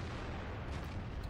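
A tank cannon fires in the World of Tanks video game, a dense booming rumble that fills the moment, heavy and loud with faint crackles trailing on top and no talk.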